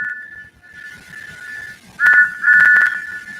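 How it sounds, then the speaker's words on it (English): Stephanie's alternate train whistle sound effect, a steady high whistle tone held for nearly two seconds, then two short louder blasts, clear and close over faint background noise. "Here's Stephanie's alternate whistle."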